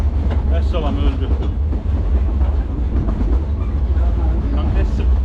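A train rolls along rails with a loud, continuous low rumble and rattling wagon noise heard from on board, with a voice talking over it.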